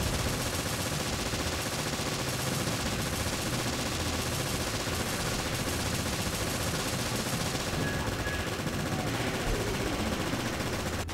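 Sustained automatic gunfire in a Resident Evil co-op mode video game: dense, loud, unbroken bursts of rapid shots with no pauses over several seconds.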